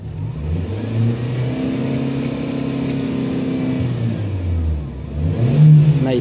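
Car engine revving steadily at moderate volume, with a mid-pitched drone that rises and falls through repeated throttle blips, checked for high fuel trim and a dirty mass airflow sensor.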